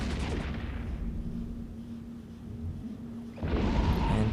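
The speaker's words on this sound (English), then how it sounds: "I think the bellicose is using rapid missiles" Rapid missile launchers firing in the space game EVE Echoes, a dense steady roar of launches and impacts with a low hum, swelling louder near the end.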